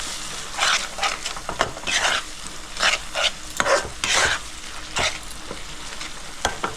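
A spoon stirs Kashmiri chili powder, coriander powder and salt into pangas fish frying in oil, with irregular scraping strokes over a steady sizzle, close and without talk.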